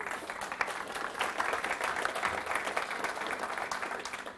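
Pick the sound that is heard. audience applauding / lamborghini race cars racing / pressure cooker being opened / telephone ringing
audience applauding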